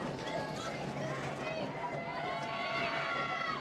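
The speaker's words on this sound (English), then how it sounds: "The crowd getting rowdy as well." Rowdy crowd noise at a high school football game at Glen Allen, a dense wash of cheering and chatter holding steady throughout, fairly loud and without clear breaks.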